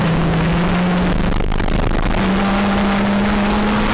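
Stock hatchback race cars circle Anglesey circuit, a continuous loud engine drone that climbs and falls in pitch as they pass close together, with no voices.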